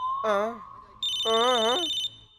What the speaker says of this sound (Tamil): இந்த போனை நான் எடுக்க போறதே இல்ல சார். எடுங்க சார். சார், அங்க அடிக்குது சார்.